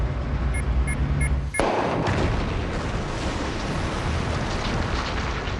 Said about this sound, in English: it took a whole day to prepare for that one blast